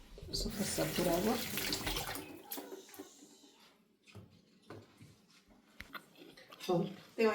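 Food is rinsed under a running kitchen tap, a burst of splashing water that fades to quieter rustles and faint clinks while someone talks.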